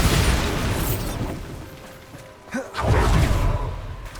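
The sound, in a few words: Bombardo explosion spell in the video game Hogwarts Legacy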